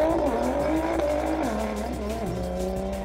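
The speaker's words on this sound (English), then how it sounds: "Jackie was motoring up the hill, really, really pushing it hard." A Nissan Skyline race car driven hard up a hillclimb course, its engine howling close and loud with rising, shifting pitch through gear changes and the odd squeal of tyres.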